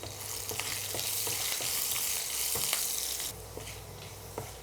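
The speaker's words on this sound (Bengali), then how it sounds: "এখন একটু নাড়াচাড়া করে তারপর সাথে একটু রসুন দিয়ে দেবো" Garlic frying in a pan, sizzling loudly and steadily up close, with repeated scraping and tapping strokes as it is stirred; the hiss drops off sharply partway through, leaving a quieter sizzle with occasional knocks.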